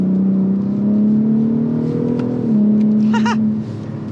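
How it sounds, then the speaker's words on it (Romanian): A large six-metre, three-tonne Ford van with a 450-horsepower engine runs loudly and up close with the rear window open. A steady deep drone shifts pitch slightly midway, with no talking over it. "deschidem în spate luneta ca să auzim motorul mai bine"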